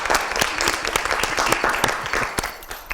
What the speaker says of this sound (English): we should all give Aaron a big round of applause for pulling this together.